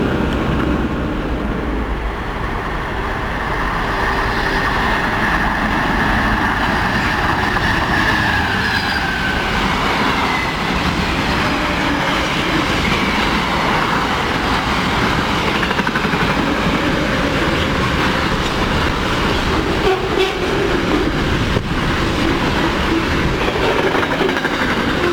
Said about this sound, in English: The wagons on that train always seem to make strange noises.